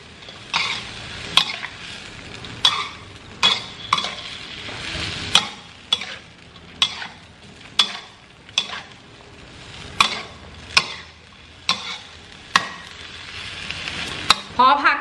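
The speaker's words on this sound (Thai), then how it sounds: "แล้วก็คลุกเคล้านะคะผักทุกอย่างให้เข้ากันนะคะ" Mixed vegetables stir-fried with oyster sauce and soy sauce in a wok or pan, a steady sizzle broken by regular sharp scrapes and clanks of a spatula tossing the food, repeating about once per second.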